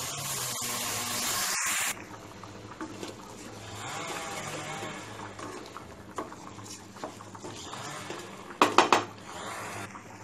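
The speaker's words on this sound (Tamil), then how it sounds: "இப்போ நம்ம வந்து ஊற வச்சிருக்கிற அரிசியை வந்து இதோடு சேர்த்து 1-2 நிமிஷம் வந்து நல்லா வந்து வதக்கிடலாம்" Soaked rice sautéed with ginger and garlic in a pan for ghee rice: a ladle scrapes and clinks against the metal, with a softer patter of grains and a sharp cluster of knocks near the end, no talking.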